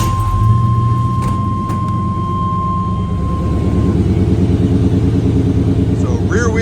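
A square body truck engine runs and builds speed while driving, a loud, steady low rumble that rises gradually, with someone talking over it.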